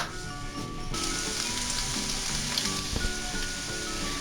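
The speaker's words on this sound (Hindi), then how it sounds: "सबसे पहले ऑयल डालेंगे, अब प्याज डालेंगे। अब इसे यहाँ मैं थोड़ा सा फ्राई करूंगी।" Onions sizzling and frying in hot oil in a pan, a steady dense crackle and hiss with scattered pops, close and alone with no talk.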